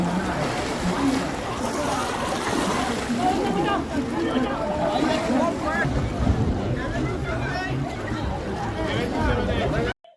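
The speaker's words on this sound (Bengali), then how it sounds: "এরপর গঙ্গার ঘাটে চলে এলাম।" Riverside ghat on the Ganges with boats on the water, a steady wash of lapping water, wind and crowd murmur, with people talking throughout at a moderate, even level.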